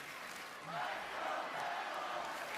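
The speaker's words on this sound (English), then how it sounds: "The crowd's cheering for Melo" Wrestling arena crowd at Rupp Arena cheering and chanting for Melo, a broad, distant roar that swells after the first half second and holds steady, with a commentator's voice faintly in the mix.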